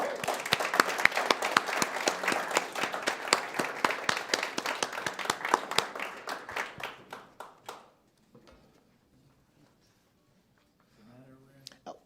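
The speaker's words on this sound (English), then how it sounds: "Let's give a round of applause to the candidates for Seattle District 2, Adonis Duckworth and Eddie Lynn." Audience applause at a Seattle District 2 candidate forum: brisk, dense clapping from a nearby crowd for about eight seconds, thinning and stopping, then near silence before faint talk returns at the end.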